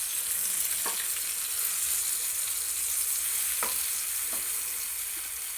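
Green chillies sauté in hot oil with a constant, dense sizzle, broken by a few faint taps of a spoon against the pan.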